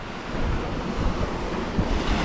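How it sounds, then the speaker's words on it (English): Sea waves break and surge over a stony beach in a bay on an incoming tide, a loud continuous roar with wind buffeting the microphone and repeated heavier crashes throughout. "Force of the waves, look, bang, bang, bang,"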